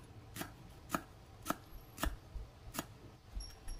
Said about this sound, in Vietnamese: Rồi sau đó thì mình cũng sắc lát mỏng mỏng ra.